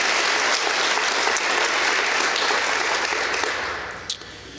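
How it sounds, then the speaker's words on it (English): Sustained applause from a seated audience at a government executive order signing event, dense and steady before thinning out in the final second. "Let's give another round of applause"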